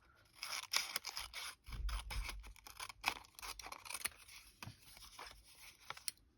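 Scissors snip and trim paper for a Christmas craft, a quiet, close series of sharp cuts and rustles in an uneven rhythm with no talking.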